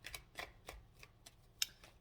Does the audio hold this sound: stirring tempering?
no